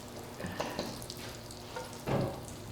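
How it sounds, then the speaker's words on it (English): Soft, steady sizzle of food frying in a pan, with a few brief clinks and stirring sounds and a louder crackle near the end. "We've got a little sizzle."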